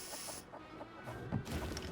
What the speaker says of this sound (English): shut up, you stupid chicken